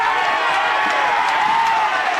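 A suburban football crowd at Ben Frelay Oval roars and cheers for a goal in a close final quarter, a sustained, dense wash of shouting voices heard at a distance.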